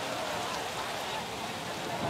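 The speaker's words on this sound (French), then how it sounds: "une pluie torrentielle s'abat sur Rio" Torrential downpour at the Rio carnival, a dense steady hiss of heavy rain filling the scene at constant loudness with no clear voices.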